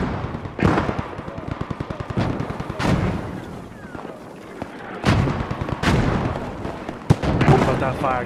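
Tank firing in a World War II video game battle at night, a few heavy booming blasts standing out over crackling small-arms fire and steady clatter, with voices talking through the fighting.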